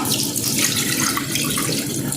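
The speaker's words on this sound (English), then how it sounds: "I'm gonna pour the water." Steady rush of water pouring into a cooking pot of parboiled rice with butter, continuous and close, with no pauses or voices.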